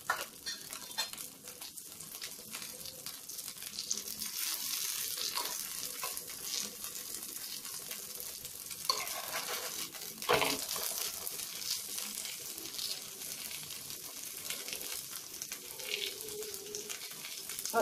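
A paneer paratha cooks in ghee on a hot griddle, giving off a soft, steady frying sizzle that continues evenly with occasional small crackles and no voices.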